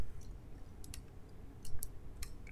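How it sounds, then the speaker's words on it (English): Sparse keyboard clicks, a few isolated taps and short bursts, sound close and fairly quiet against a low background hum while someone works in Unreal Engine 4. "that's keyboard"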